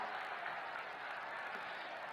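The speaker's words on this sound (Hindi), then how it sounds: "जोरदार तालियों से एक बार अपने प्रणाम माननीय प्रधानमंत्री तक पहुंचाएं" A crowd applauds the Prime Minister at an Uttar Pradesh public event, with steady, even clapping heard faintly and at a distance throughout, unbroken and without audible talk.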